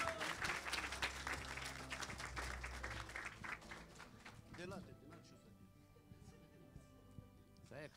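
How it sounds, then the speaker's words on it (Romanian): Wedding guests at a ceremony in Newcastle clap and applaud for several seconds, and the clapping fades toward the end. A voice speaks over the applause. "Hai să aplaudăm, scumpii mei."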